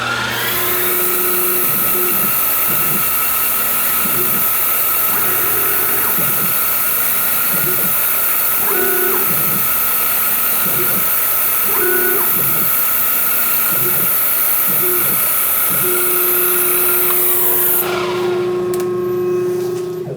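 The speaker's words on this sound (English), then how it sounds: "this is just going to be to spot the holes where we're going to drill through" Steady machine-shop whir of a spot drill running at 2200 RPM in a milling machine, with short repeated bursts as holes are spotted in metal, continuous and close throughout.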